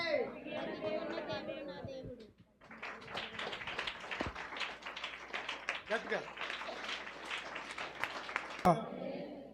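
A revival service congregation claps in a dense, continuous patter of many hands, with a preacher's voice speaking before and over it and a short lull before the clapping swells.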